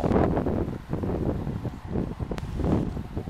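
Strong wind buffets a microphone on a mountainside near Guaranésia, Minas Gerais, roaring steadily and loudly throughout with gusty swells and no speech.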